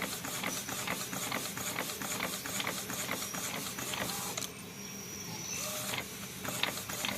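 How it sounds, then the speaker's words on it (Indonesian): An ID card printer printing onto a blank card, giving a close, continuous mechanical whir with rapid rhythmic clicking, then a brief hissing pause before the mechanism resumes. "Nah, ini proses cetak ya."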